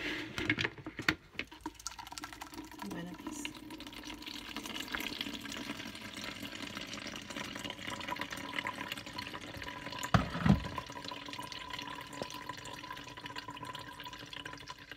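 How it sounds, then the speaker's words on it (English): Blended carrot, celery and ginger juice is strained, a soft continuous trickle and patter of liquid with scattered drips and a couple of small handling knocks, close and quiet. "So I'm straining out my juice"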